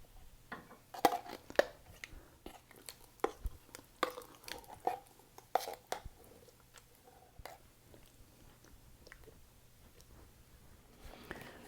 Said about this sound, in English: Then I'm going to put 2 cans of apple pie filling in the bottom.